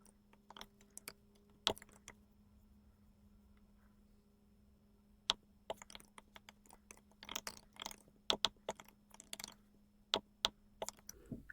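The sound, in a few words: typing code on a computer keyboard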